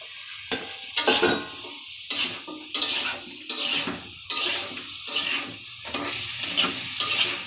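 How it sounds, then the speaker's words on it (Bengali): Arum roots (kochu mukhi) are stirred and sautéed in a sizzling spice paste with oil, with a spatula scraping the pan in repeated strokes, close and steady. "দিয়ে কচুরমুখিটা কষায় নেব।"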